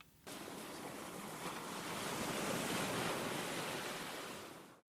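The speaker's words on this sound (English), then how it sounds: "I see a wave, I want to hear a wave." Ocean waves surge and wash onto a beach in a steady, full roar that swells toward the middle and fades at the end, with no voices.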